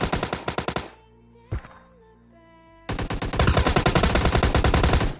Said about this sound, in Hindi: हमको सामने फायरिंग की आवाज आती है